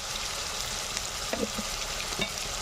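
Spices for a Bengali fish curry fry in a pan with a constant loud sizzle, with a few soft stirring scrapes near the end; no voices.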